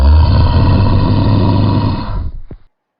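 A deep, rough growl rumbles steadily for over two seconds, loud and close, with a gritty rasping texture before cutting off abruptly.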